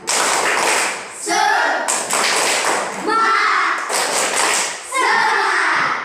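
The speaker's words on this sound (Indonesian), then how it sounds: "Kita tepuk semangat dulu." A classroom of children standing up to do a rhythmic clapping chant, loud sharp bursts of claps in repeated patterns with chanted voices between them, close and lively.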